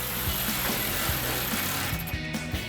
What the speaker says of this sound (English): now I'm going to take a 10mm socket and tighten this down